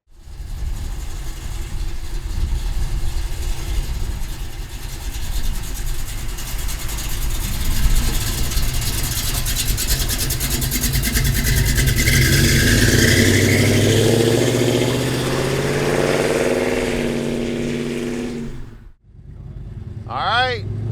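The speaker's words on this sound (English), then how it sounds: "Listen to those mufflers. I love the sound of this car." A deep, rumbling 1968 Plymouth Barracuda engine idles steadily with a throaty burble through its mufflers, then briefly cuts off near the end before starting to rumble again.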